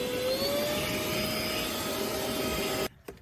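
A Seesii cordless vacuum, a small shop vac, whines steadily at close range with a rising motor pitch, then cuts off abruptly near the end, followed by a faint click.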